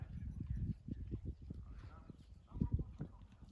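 Hooves of Ternopil horses clop on the ground at close range in an uneven walking rhythm, with a few louder strikes near the end.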